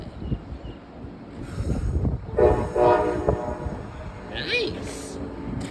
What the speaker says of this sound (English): Blowing the horns when we're ready to leave.